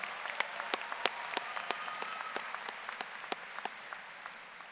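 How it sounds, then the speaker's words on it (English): A modest round of applause at a high school graduation, scattered hands clapping steadily from a small crowd for several seconds, fairly faint. "can we get a great big round of applause for our RoboHawks"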